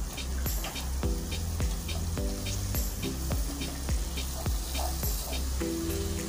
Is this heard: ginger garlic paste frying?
yes